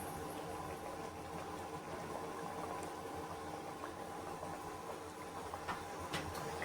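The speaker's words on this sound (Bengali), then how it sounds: "তো এই যে দেখো জলটা ফুটে গেছে" Water boiling in a cooking pot, a steady soft bubbling roil that stays even and fairly faint throughout.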